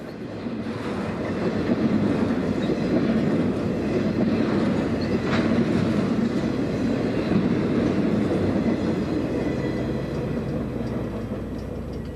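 Santa Fe main-line freight train rolling past in an alpine stretch west of Flagstaff, a loud steady rumble with rhythmic clickety-clack of wheels, one faint brief squeal, building and holding throughout.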